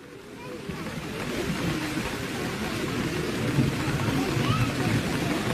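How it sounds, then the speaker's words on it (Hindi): Heavy rain pours steadily at an outdoor political rally in Dharamshala, a dense, roaring wash of noise that swells slightly and holds constant throughout. "बारिश तेज हो गई है"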